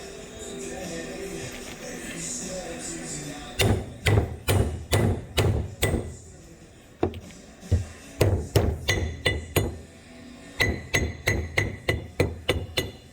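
Hammer tapping a socket onto a Corvette brake caliper part, close sharp metallic knocks in quick bursts of five to eight strikes separated by short pauses, with a faint voice at the start.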